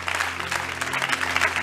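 A church congregation applauds and cheers in acclamation of the Lord at a worship gathering, a dense, steady wash of clapping and crowd voices filling the space throughout.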